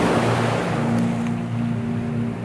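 Sea waves at a forested beach at Oued Goussine, Beni Haoua, in Chlef province, Algeria, give a continuous loud wash of surf with wind noise on the microphone and a low steady hum underneath.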